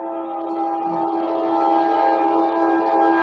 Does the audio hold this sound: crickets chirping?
no